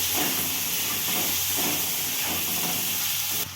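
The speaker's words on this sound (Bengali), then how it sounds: "খুব ভালো করে আলুটা আমি ভেজে নেবো লাল লাল করে।" Potatoes fry in hot oil with salt and turmeric powder, giving a loud, dense, continuous hiss and sizzle close by. It stops abruptly near the end.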